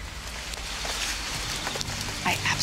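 Heavy rain falls steadily in the Himalayas near a cave, a dense hiss of drops hitting surfaces, with brief indistinct voices beneath.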